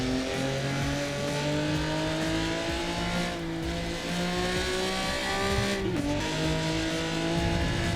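A race car engine in the video game Assetto Corsa EVO roars continuously at high revs at full throttle, pitch climbing through manual gears with brief dips at shifts, loud and close, with no talking.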